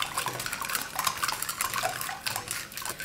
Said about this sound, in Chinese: 先把红糖搅拌融化